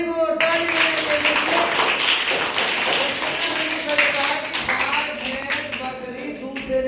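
A class of students clapping together in rhythmic, evenly spaced rounds, loud and close, while a voice speaks over the applause.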